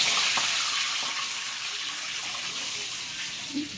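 Ingredients poured into hot oil for chicken soup, a hissing, sizzling wash of sound that starts strong and eases slightly as it settles into a steady fry.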